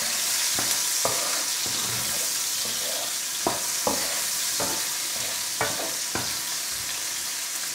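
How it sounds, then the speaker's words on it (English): Onions sauté in hot oil with salt in a pot for jollof rice, a steady close sizzle broken by several periodic scraping stirs. "We're going to allow this to saute for about a minute or two"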